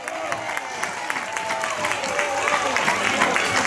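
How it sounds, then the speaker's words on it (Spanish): Applause after a ska performance at a school rock concert, steady clapping from an audience with voices mixed in. "¡Fuerte el aplauso!"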